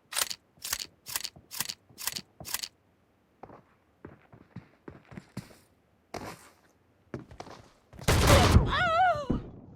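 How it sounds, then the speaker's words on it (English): A shotgun in a video game being reloaded, a rapid series of five sharp mechanical clacks followed by softer clicks and handling, then a loud blast with a voice over it. "Reloading!"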